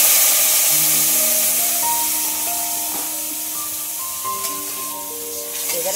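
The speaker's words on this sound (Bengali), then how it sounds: "এই খিচুড়িটা এখন সম্বরা দিয়ে দেবো।" Khichuri being tempered in a pot sizzles loudly and continuously, a dense hiss with steaming spatter close by, sustained from start to finish without talk.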